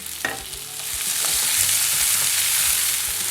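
Onions and capsicum fry in hot olive oil, giving a loud, steady close sizzle that swells after a brief clatter as the vegetables go in, with a few soft stirring knocks and no speech.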